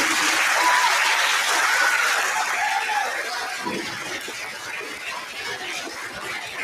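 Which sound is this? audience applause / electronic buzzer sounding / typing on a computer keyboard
audience applause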